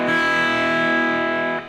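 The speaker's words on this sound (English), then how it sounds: "put a little bit of distortion on your amp, a little bit of gain, and get a crunchy sound like this." A slide guitar played through an amp with a bit of distortion and gain rings out one crunchy, buzzy sustained chord that holds steady and then cuts off sharply after a second and a half.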